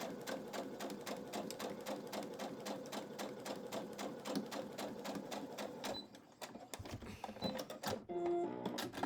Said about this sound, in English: sew 1/4 inch away from the middle line or directly on the 1/4 inch line that you sewed